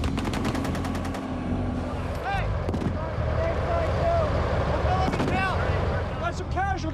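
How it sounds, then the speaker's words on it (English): Gunfire from hidden snipers during a combat school training exercise: sharp repeated shots and bursts early on, then a noisy battlefield rumble with voices and chirping radio-like tones mixed in. "Hidden snipers open fire."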